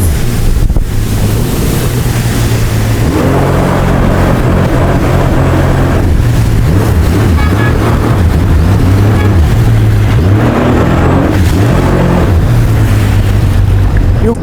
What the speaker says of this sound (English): Just see how I came here and I give him that splash